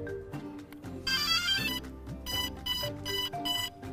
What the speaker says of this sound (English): Those beeps you hear are the ESCs arming themselves.